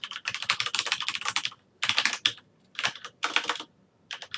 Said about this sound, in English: Literally typing out a URL from my phone.